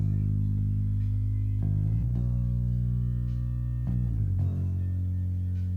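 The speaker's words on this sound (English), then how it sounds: "Let's listen to how much compression and EQ is used on the bass track in this song." A heavily compressed, EQ'd bass guitar track from a song: deep, even-level notes with a steady, flattened loudness and a few note changes, quiet and alone with no talking.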